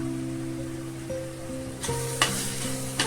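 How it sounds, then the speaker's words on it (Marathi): Masala with butter frying and sizzling in oil in a pan while potato-pea rassa bhaji is cooked, a steady close hiss with a few sharp stirring scrapes and clinks toward the end. "छान मसाला घालून घेऊया चांगलं तेल सोडपर्यंत त्याला परतून घेऊया"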